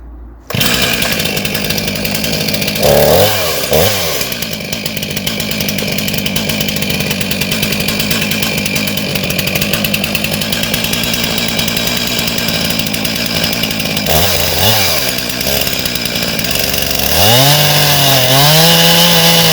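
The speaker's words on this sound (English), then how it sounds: "Let's get my saw started and get the notch in." A chainsaw cuts the felling notch in a standing tree: a loud, close, steady buzzing drone with several brief dips and surges in revs as the cut progresses.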